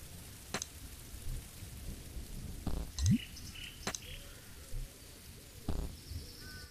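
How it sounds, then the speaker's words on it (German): Rain pattering steadily with low thunder rumbles and occasional sharp cracks from the video game There Is No Game: Wrong Dimension, fairly quiet, with scattered brief electronic effects over the downpour. "Und jetzt holen wir uns noch den Regen."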